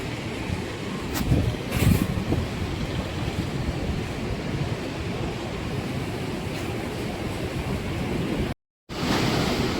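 Steady rushing water of a river with broadband noise and some wind buffeting, continuous throughout, with a brief dropout near the end, in Idukki.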